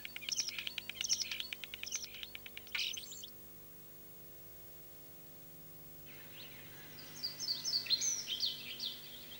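A starling sings, mimicking the calls of other birds, in bursts of chirps and whistles, then a quiet pause before more rapid twittering returns, over faint hiss and hum.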